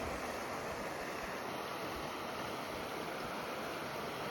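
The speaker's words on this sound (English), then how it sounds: "We've just come across this fresh stream flowing through" A fresh mountain stream on the Phobjikha Nature Trail in Bhutan's Gangtey Valley rushes and burbles in a steady, full wash of water noise, close by and continuous, with no voices.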